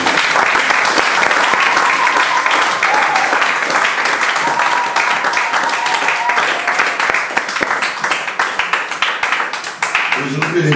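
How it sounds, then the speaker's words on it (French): A church congregation bursts into loud, sustained applause and clapping to acclaim the Lord, a dense wash of hands that stays steady for about ten seconds before tapering slightly, with faint voices mixed in. "Est-ce qu'on peut acclamer le Seigneur?"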